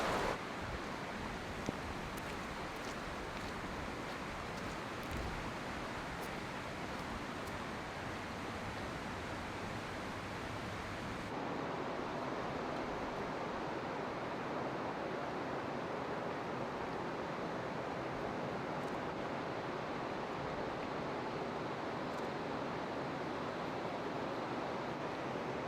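River water flowing in springtime Yosemite National Park, a steady broadband rushing wash that continues evenly throughout, shifting slightly in tone partway through, with no voices.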